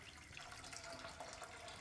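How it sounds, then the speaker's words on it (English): Water is poured into a kadai of Bengal gram for a chana dal kheer, making a soft, continuous low splashing rush that stays faint and even throughout. "Now let us add water."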